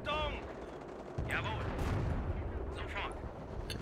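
A machine gun emplacement fires in Company of Heroes, with bursts of automatic gunfire and distant artillery-like booms over a rumbling battlefield, moderately quiet and layered with whistling shell sounds.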